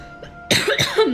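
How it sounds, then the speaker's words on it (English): A few harsh, close coughs in a quick burst, after a brief quiet stretch, with a hoarse throaty edge. "I'm so sorry that I'm coughing"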